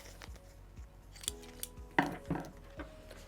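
Scissors trimming paper close up, a series of quiet crisp snips in an uneven rhythm, with two sharper, louder cuts near the end and no talking.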